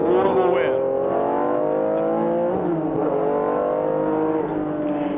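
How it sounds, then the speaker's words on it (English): A 1974 Porsche 911 RSR race car accelerates up the start-finish straight at a historic reunion race, its engine a steady, sustained roar with rising pitch throughout, heard under a commentator's voice. "Now he's accelerating up the start and finish straightaway."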